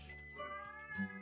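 A cat perched on a person's head gives a short, close meow over a quiet room, a single drawn-out call with a slight rise near the end.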